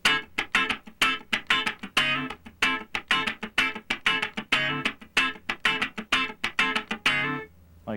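A funk rhythm guitar pattern in D with a straight feel plays as a steady run of tight, percussive, muted chord strums in a repeating one-bar groove, close and dry, stopping just before the end.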